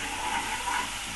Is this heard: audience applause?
no